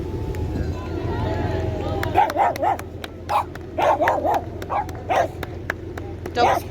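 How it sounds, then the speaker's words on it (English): Several dogs bark repeatedly in short bursts, fairly close, beside a river racing lane on the River Thames, over a steady outdoor rumble, with voices talking in the background. "The dogs are barking encouragement."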